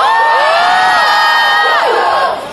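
At a college promotional event, a large student crowd screams and cheers. Piercing, sliding whoops overlap in a loud burst that fades slightly at the end.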